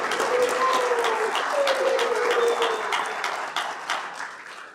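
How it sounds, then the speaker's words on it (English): An audience at a live WESPAC 2025 event in Accra applauds in a dense burst of clapping that fades toward the end, with a voice briefly heard over it. "Shall we do a big round of applause for him?"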